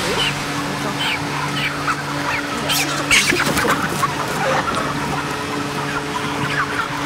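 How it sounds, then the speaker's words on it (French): A crowded flock of broiler chickens about 40 days old chirps and clucks continuously in a shed over a steady mechanical hum, with many birds calling at once. "Les poulets qui sont ici, ils ont quel âge ?"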